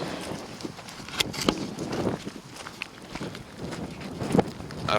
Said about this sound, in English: I have no idea where the wind's coming from.